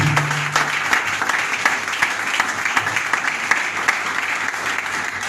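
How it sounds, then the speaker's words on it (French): A church congregation applauding, steady dense clapping from many hands sustained throughout, filling the room without pause. "Acclamez pour le Seigneur Jésus."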